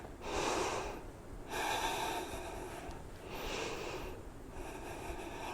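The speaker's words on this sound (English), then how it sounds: "Just gentle, nice breathing here." Slow, gentle breathing during a yoga session for anxiety, with three long airy inhale-exhale cycles close to the microphone and no talking.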